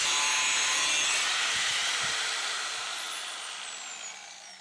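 Grinder working metal on a 1976 Ford F100 truck during restoration, a loud continuous abrasive whine that slowly winds down and fades over several seconds, with no talk.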